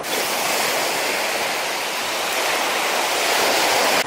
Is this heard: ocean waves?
yes